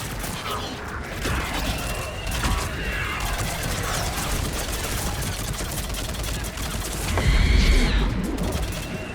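Sustained gunfire and mechanical weapon clatter in the video game Mass Effect Legendary Edition, a dense rattling barrage that swells louder toward the end of the clip.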